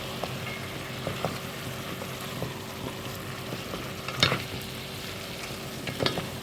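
Stirring duck curry in a pot in a home kitchen, Kuttanad style: soft scraping and sizzling with a few louder spoon scrapes against the pot, steady and close, no talking.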